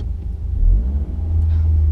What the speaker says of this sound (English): So when you're ready, straight to revs, revs.